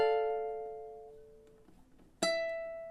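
A guitar rings out a sustained chord high up the fretboard, with a fading sustain, followed by one bright new plucked chord that rings out.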